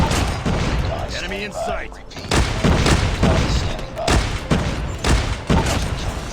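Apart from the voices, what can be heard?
grenade launcher firing in a mobile video game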